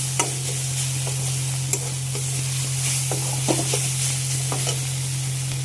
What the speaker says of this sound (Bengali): আর এখানে এখন হচ্ছে উচ্ছে ভাজা